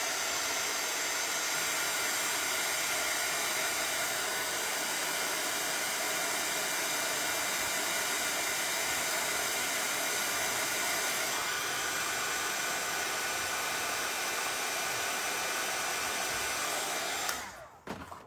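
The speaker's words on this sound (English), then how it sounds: "Let me hit that with the dryer." A hair dryer blows on freshly applied red paint on a door hanger, a loud, steady whooshing roar lasting about seventeen seconds before it clicks off abruptly.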